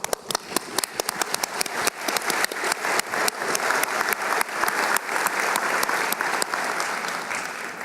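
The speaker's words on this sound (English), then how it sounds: "Let's applaud you and recognize your contributions." An audience at a community awards banquet gives a long round of applause, dense overlapping claps sustained at steady strength throughout, with no talk over it.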